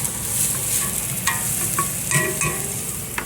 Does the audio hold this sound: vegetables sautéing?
yes